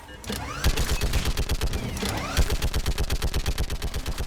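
Rapid sustained gunfire in a Mass Effect 3 battle on Thessia, a fast rhythmic string of loud close shots with brief bursts and whooshing energy trails, continuous and dense throughout.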